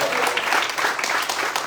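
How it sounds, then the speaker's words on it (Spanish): A church congregation applauds loudly, a dense, close burst of many hands clapping at once that holds steady throughout the short moment. "Den un fuerte aplauso al que vive"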